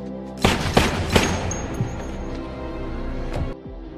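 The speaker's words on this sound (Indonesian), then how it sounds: "tiba-tiba seseorang masuk dan langsung melepaskan tembakan ke arah Zhou" Gunfire in a kung fu film scene: several sharp, loud shots in quick succession, then a lingering ringing tail and a last softer thump, with no voices.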